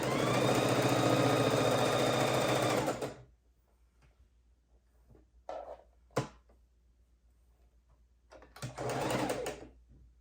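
A sewing machine stitching a quilt made from 2 1/2-inch fabric scraps, loud and close, running steadily for about three seconds, then stopping, with brief clicks and handling noises before a second short burst of stitching.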